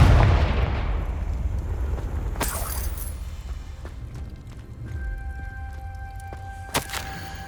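Confringo blasting curses going off in the Hogwarts Legacy video game: a deep rumble opens, then sharp, bright blasts crack out about four seconds apart, each trailing into a low, steady background drone.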